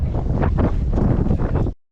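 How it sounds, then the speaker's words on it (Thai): Strong wind gusts across a reservoir at Huai Phong, Yasothon, buffeting the microphone in loud, rough rumbling bursts that swell and ease for nearly two seconds before cutting off abruptly. "ลมแรงมากอ๋อลมแรงมาก"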